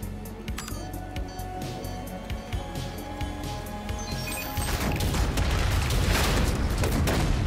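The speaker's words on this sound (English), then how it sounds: "gotta walk away from the explosion all cool looking" An explosion in an animated Murder Drones episode breaks out as a heavy, rumbling roar that swells over a busy soundtrack and keeps churning loud to the end.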